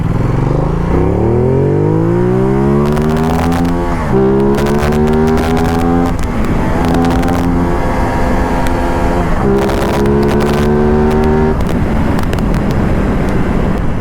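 A Ducati Multistrada 1200 S motorcycle in sport mode accelerates hard on a highway, its loud engine climbing sharply through several gears with brief dips at each shift, close and sustained under heavy wind rush.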